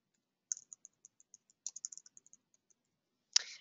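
Sharp mouse clicks in an office computer setting, a handful of light separate clicks and then a quick irregular burst, ending with one louder click-rattle, all close and alone without talk.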